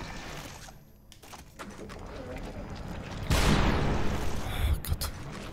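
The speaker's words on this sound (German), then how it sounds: "2 Schüsse Schrot, die kann ich auch mitleben." Shotgun blasts in the survival horror video game The Evil Within, a sudden loud burst after a quieter stretch, followed by a sharper second crack amid game ambience.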